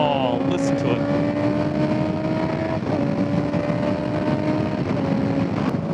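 A Honda CBR650R motorcycle pulling hard after a downshift, its engine a loud, continuous rising drone heard from the rider's position with wind roar throughout.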